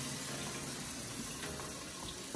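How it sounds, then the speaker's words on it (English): Cold tap water running into a pot used to cook salt mackerel run down, a steady gushing flow throughout, fairly close and uninterrupted, with no voices. "So I can run cold water in it now."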